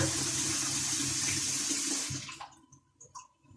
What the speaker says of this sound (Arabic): ونحط ميه سخنه تاني، نسيبه هو بقى يغلي